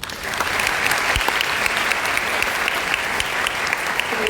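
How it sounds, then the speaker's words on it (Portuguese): Steady, sustained applause from an audience at a neuropsychology lecture event, a dense, even wash of clapping rising quickly and holding at a constant level. "uma salva de palmas para a Keila"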